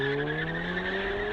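A Ford Focus ST launching with a little wheel slip gives a sustained high tire squeal over a steady engine drone, loud and close, lasting about a second and a half.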